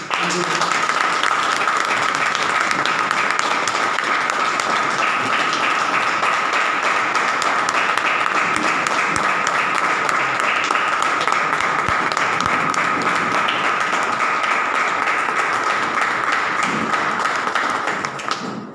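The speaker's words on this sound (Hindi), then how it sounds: "तो उनके लिए एक बार जोरदार तालियां" Sustained clapping from a group of company trainees on a business training trip, an even, continuous patter holding steady for the full length with no pause.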